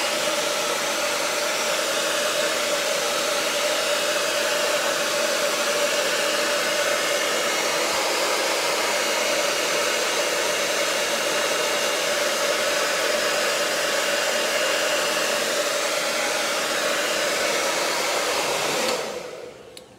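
A hair dryer on its cool setting blows steadily and loudly at close range to dry a cleaned K&N air filter from a Citroën DS3 1.6 VTi, a constant whooshing roar that cuts off near the end.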